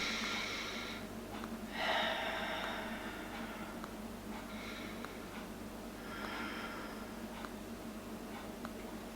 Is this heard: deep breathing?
yes